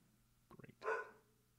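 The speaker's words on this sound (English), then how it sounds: "What good timing before the dogs barked" A dog gives a short, faint bark sequence, a few quick yips followed by one fuller bark, heard alone at a distance in a quiet room.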